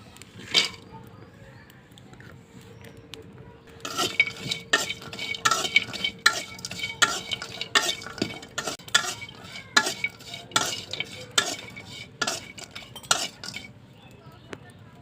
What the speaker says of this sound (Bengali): শুটকিগুলো ভালো করে ভাজা নেব